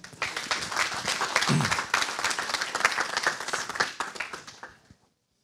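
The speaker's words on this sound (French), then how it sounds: "Merci à vous, applaudissements" Dense clapping from an audience at an open-source digital-territory award ceremony, steady and full for about five seconds before tapering off quickly into silence.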